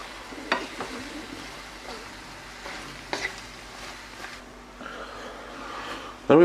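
Ingredients for a Chinese curry sizzle softly in hot oil in a pan, a quiet continuous fry broken by a few sharp scrapes and clatters of stirring and a louder knock at the end.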